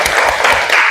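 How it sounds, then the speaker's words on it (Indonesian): A brief burst of clapping for the Anggrek group, a handful of hands striking in quick uneven rhythm, close and fairly loud for under a second. "Tepuk tangan."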